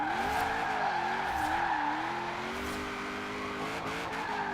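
A Nissan 240SX SE drifts in a Forza racing game, its engine droning with wavering pitch as the tires squeal and skid continuously, steady and fairly loud with no talk.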